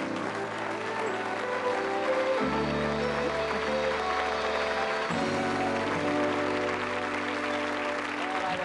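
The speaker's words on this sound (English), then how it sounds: "Give him a round of applause." A studio audience applauds steadily and loudly for the whole stretch on a 1988 television science show about memory, with sustained musical tones running beneath the clapping.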